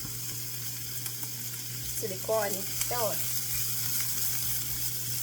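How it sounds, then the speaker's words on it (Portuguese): Chopped onion sizzles steadily in a hot pan on a home stove while a person speaks Portuguese over the constant frying hiss. "Deixar dourar um pouco essa cebola."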